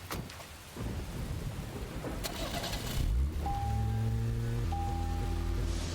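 Rain falls steadily in the video game Deadly Premonition, broken by sharp thunder cracks and a deep rolling rumble, followed by a low sustained engine-like drone and tonal hum near the end.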